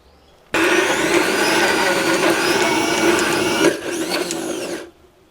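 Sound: mixer grinder grinding urad dal batter with coconut

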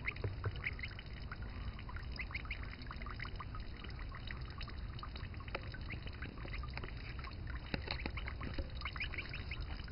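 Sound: gosling swimming and splashing in a koi pond

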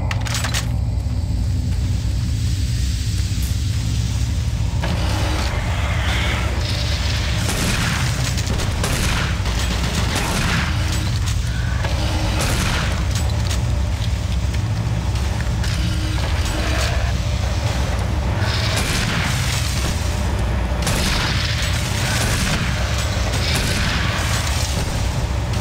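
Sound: shotgun firing in video game Doom 3

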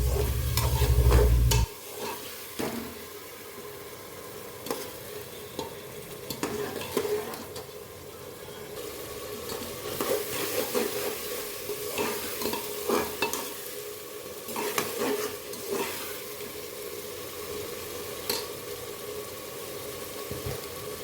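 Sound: peas being stirred and roasted in a pan

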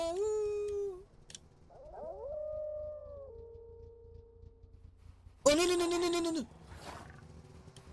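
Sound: wolves howling and roaring in Everest climbing video game

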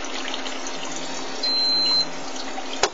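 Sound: water flowing through cooling tubes

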